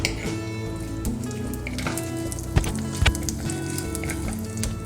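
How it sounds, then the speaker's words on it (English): Whole dry spices sizzle steadily in a hot kadhai for a chicken biryani, a continuous close crackling hiss with a few sharper scrapes and clicks as they are stirred, no voices over it. "So now I've just added all the whole spices and I'm going to mix it a little."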